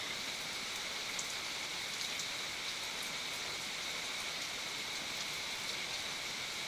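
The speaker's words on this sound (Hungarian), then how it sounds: "Esik az eső!" Steady rain falls in a continuous, even hiss, with faint raindrop patter on a nearby surface and no voices.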